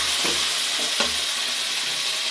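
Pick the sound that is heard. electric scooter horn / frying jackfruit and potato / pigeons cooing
frying jackfruit and potato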